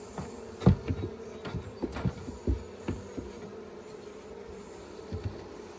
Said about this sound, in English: A lot more bees down in there.